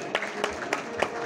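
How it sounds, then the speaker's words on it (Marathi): An audience at a Marathi bhajan programme claps for the guests, four evenly spaced, rhythmic claps heard over a low crowd murmur. "जोरदार एकदा त्यांच्यासाठी सर्वांनी टाळ्या वाजवायच्या आहेत"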